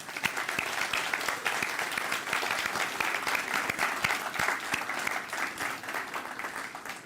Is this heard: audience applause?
yes